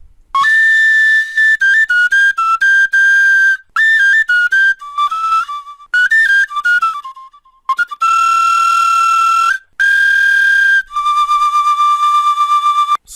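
Percussion samples with EQ applied play in Cubase 12, a loud run of bright, pitched tonal hits with whistle-like sustained tones, stepping through short notes and longer held passages with brief gaps, no voices.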